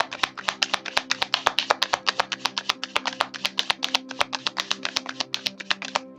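Tarot cards being shuffled by hand: a rapid, evenly paced run of crisp, close card flicks and taps, quiet and with no other sound around them.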